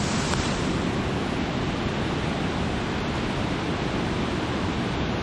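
Swollen river in rainy season rushing loudly and steadily, a dense continuous roar of churning water close by, with no voices.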